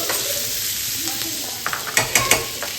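Onions frying and being stirred in a pan for pasta, giving a steady hiss of sizzling with a run of sharp scraping strokes toward the end, close and with no talking.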